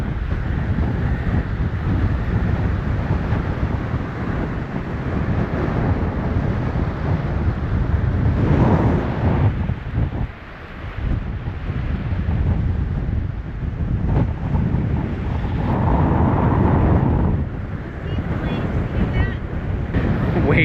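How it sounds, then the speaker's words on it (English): Strong wind roars steadily over a lake in a mountain gap, buffeting the microphone continuously, with waves washing and splashing against rock beneath the gusts. "it's really, really blowing down here through this gap and over this lake"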